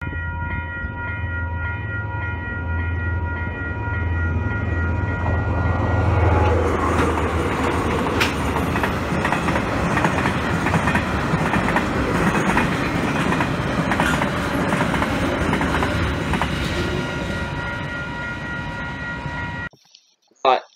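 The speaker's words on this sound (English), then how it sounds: "Now the next train is currently on its way." A train passes a level crossing in New Zealand, rumbling with a long horn blast at first, then rattling clickety-clack of wagons rolling by for a long stretch before abruptly cutting off.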